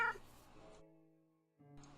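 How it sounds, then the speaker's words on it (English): A tamed cat in the Minecraft video game meows, a short clear electronic mew followed by a gap and a second brief call, heard alone without talk. "Once tame, it can become one of 3 different kinds of cats, and you can tell it to sit or follow you"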